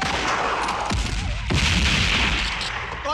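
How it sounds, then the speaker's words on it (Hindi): War-film battlefield gunfire laying down covering fire, loud dense bursts of shots and booming blasts filling the whole moment, with heavy low thuds near the middle. "I need covering fire"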